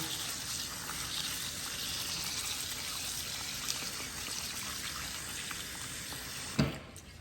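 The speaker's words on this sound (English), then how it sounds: "I'm just going to put some water in here" Water pours steadily from a tap into a pot of rice for washing, a soft continuous rushing stream that stops with a small thud near the end.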